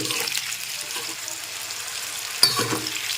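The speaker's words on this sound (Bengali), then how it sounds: "এখন একটু নেড়ে চেড়ে ভেজে নিচ্ছি" Capsicum and onion are stir-fried in a pan for chilli chicken, giving a soft steady sizzle with scraping stirs and a sharp clatter near the end, heard close up.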